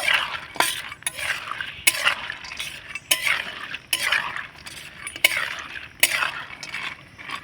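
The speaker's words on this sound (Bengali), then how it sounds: "খুন্তিটা দিয়ে এইভাবে করে একটু নাড়াচাড়ানো করে নেব" A spatula stirs fried boondi through sugar syrup in a pan, giving repeated wet scraping and sloshing strokes in a steady rhythm, close and moderately loud, with no voices.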